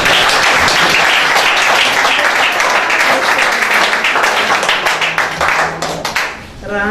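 A church congregation breaks into loud, sustained applause. Dense clapping fills the room and turns into faster rhythmic claps near the end before fading out.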